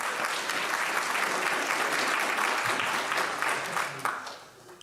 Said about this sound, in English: a big round of applause again for Nigel.